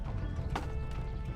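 A horse in the medieval video game Kingdom Come: Deliverance makes quick clip-clop hoof sounds with a brief snort or whinny, heard close and fairly quiet over a dense background bed.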